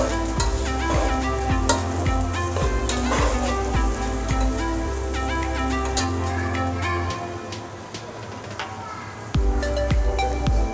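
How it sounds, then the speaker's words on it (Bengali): Vegetables for vegetable biryani, including green capsicum and carrot, stirred while frying in a pan, with a loud steady sizzle, frequent spatter crackles and stirring clatter, and a low hum underneath. "এখন আমরা নাড়তে থাকবো।"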